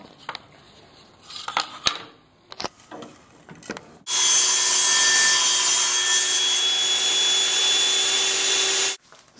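A power saw cuts wood to square up the pieces of a child's DIY coloring box shaped like a book. A few scattered knocks and handling sounds lead into about five seconds of loud, steady cutting that stops abruptly.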